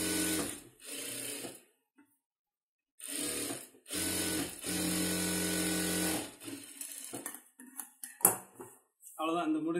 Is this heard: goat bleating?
no